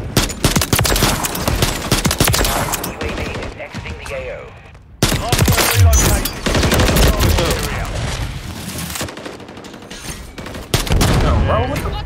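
Heavy video game gunfire in a 4v4 online match, dense overlapping bursts and explosions filling the whole stretch, loud and close, with a brief lull midway and voices mixed into the chaos.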